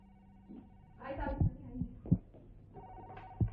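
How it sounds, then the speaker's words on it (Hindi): A telephone bell rings in bursts, mixed with dull thumps and some background voices. "कोई है भाई, टेलीफोन तो उठा लो, घंटी दीवानी होगी बड़बड़ की।"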